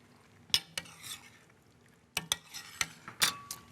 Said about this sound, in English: stir in the lardon.